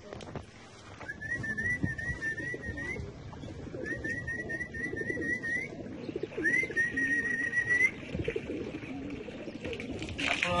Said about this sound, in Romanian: Am oprit să adăpăm porumbei.